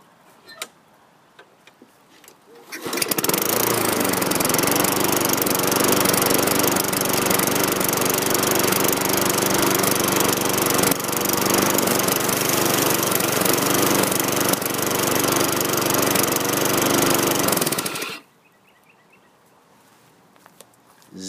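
A 2003 Toro Recycler lawn mower engine roars loudly and steadily for about fifteen seconds with a rapid ticking rattle, then cuts off abruptly into near silence.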